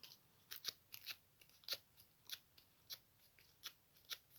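Repeated sharp, crisp scraping strokes as paper is curled with a pair of scissors while making a simple flower, about a dozen quick passes in a steady, irregular rhythm, close and quiet with no talk.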